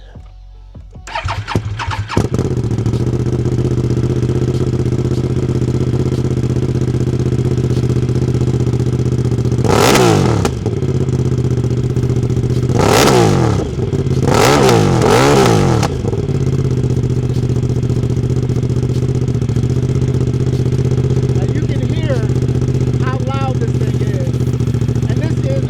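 A 2026 Moto Morini 1200 X-Cape adventure motorcycle engine starts and idles with a deep, steady rumble, broken by three short bursts of noise.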